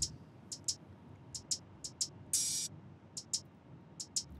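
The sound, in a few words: hi-hats before compression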